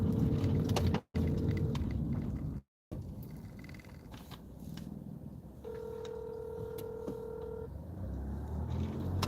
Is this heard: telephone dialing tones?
yes